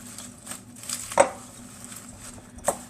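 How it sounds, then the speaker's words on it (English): Apples, pecans and spices stirred in a bowl with a rubber spatula, giving soft scraping and a couple of sharp clinks against the bowl at close range, fairly quiet with no voices. "And we're just going to carefully mix everything together."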